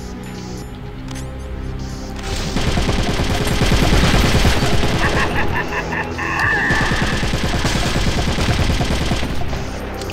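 Steady bursts of rapid gunfire from the video game Metal Gear Solid: The Twin Snakes, dense and continuous with booming impacts, loud and sustained throughout.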